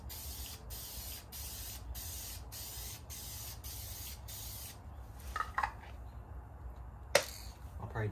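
Clear coat sprayed onto a 2000 Honda Civic under rust repair: several short hissing bursts in a regular rhythm, close and loud, followed by quieter handling clicks and a sharp snap.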